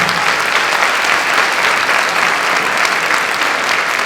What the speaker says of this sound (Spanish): recibamos con un fuerte aplauso a nuestra embajadora del día de hoy